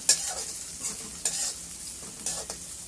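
Onions and green chillies frying in a pan, a close hissing sizzle broken by several quick scraping stirs, with no talk.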